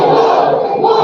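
A crowd at a hands-off protest in Concord, New Hampshire, shouting together in a loud, dense wall of voices that holds steady throughout the short burst.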